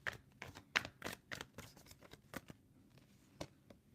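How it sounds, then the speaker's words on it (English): Tarot cards are shuffled in quick, irregular bursts of soft riffling and flicking, close and quiet. "I'm going to shuffle again just to see what comes out."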